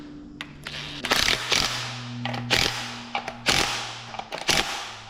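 A torque wrench snugs bolts on a rusty Ford L9000 truck, giving sharp repeated clicks and ratcheting bursts in uneven clusters over a low steady hum nearby.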